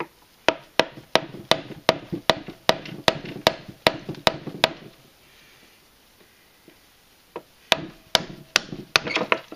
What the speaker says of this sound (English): we're going to have to tap the shifter down through using a screwdriver